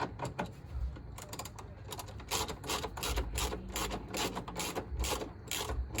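Bolt being snugged down during a TRD Pro grille install, rapid ratcheting clicks in short bursts, close and fairly quiet, with mechanical rattle between the bursts.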